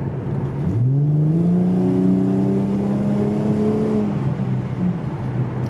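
Ford Mustang V6 with a redone exhaust accelerating, heard from inside the car: a loud engine note that climbs sharply in pitch, holds a rising whine for a few seconds, then drops back to a steady rumble.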